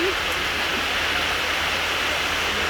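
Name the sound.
heavy rain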